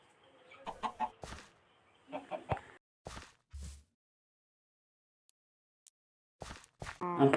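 A chicken in the Minecraft video game clucks in short, separate bursts, with a pause of a few seconds in the middle, while a person talks between the clucks.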